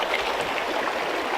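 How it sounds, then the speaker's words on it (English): A mountain creek flows beside a meadow trail in Lassen, giving a steady, broad rush of water that stays even throughout. "And we have another creek."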